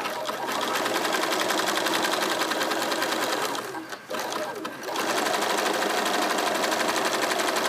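A sewing machine runs steadily while stitching a jelly roll fabric bag, a continuous close whir with a brief slowdown and pause midway before resuming.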